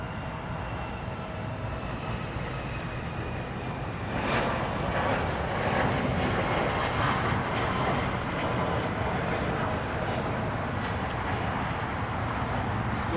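A United Boeing 737 MAX airliner at LAX produces a broad, continuous engine roar that swells slightly midway and holds steady, distant rather than overhead, with no talk.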